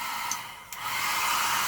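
Hair dryer blowing continuously at close range, a steady airy roar with a brief dip as the setting changes.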